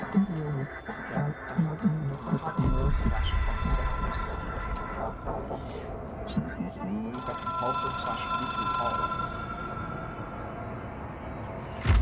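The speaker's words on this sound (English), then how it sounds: "It is a phone." Telephone ringing inside a non-Euclidean video game, an otherworldly phone object; repeated bright ringing bursts sound over a layered, droning ambient score, with a person talking throughout.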